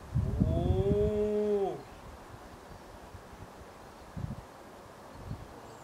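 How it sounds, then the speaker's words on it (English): A cow moos once, loud and close, in a long harmonic call near a castle in the countryside, followed by quiet outdoor ambience with a couple of soft rustles. "There's some cows around there."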